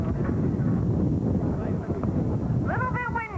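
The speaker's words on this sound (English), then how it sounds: "Little bit windy up here." Wind buffets the microphone at an outdoor Saint Patrick's Day parade, a steady low rumble close up, while voices talk through it and a brief whistle-like call rises near the end.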